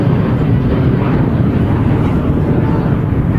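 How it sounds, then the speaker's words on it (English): KLM Boeing 737-700 jet taking off at a very windy airport, a loud, steady low roar of engines with heavy wind rumble throughout, no distinct change over the few seconds. "KLM 737-700 taking off there"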